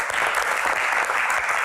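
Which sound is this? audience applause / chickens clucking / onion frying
audience applause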